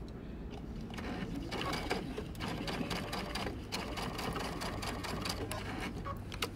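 A sewing machine stitches a fabric elephant stuffed animal, giving a loud, steady, rapid mechanical whir that runs without a break from start to finish.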